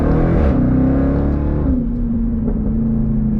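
Jeep Trackhawk exhaust note, a deep, loud, close rumble that climbs in pitch and then settles into a steady throaty drone.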